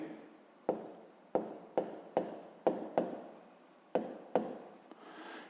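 A pen on paper writes out a Grade 5 math exercise about kilograms of bananas, close and dry, with about ten distinct scratchy strokes and taps spaced irregularly, each fading quickly, and no talk.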